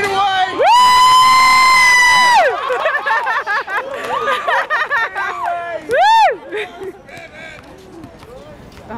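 A crowd of people, some of them children, cheers and whoops loudly outdoors at an event in New York City, with shrill, rising shouts and excited voices spilling over one another in bursts.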